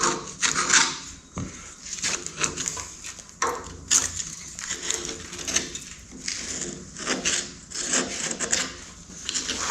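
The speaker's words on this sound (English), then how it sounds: "I'm going to scrape off some of this crud so we don't end up getting it all over the place in there." Crud is scraped off the steering bolster of a Farmall H tractor in a series of rough, rasping strokes, close and fairly loud, with brief pauses between passes.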